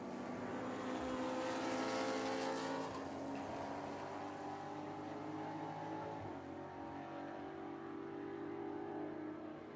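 Endurance race cars, including a black Porsche, race at Watkins Glen during a seven-hour enduro, with a distant engine note rising and falling as the cars accelerate and shift, over a steady background roar.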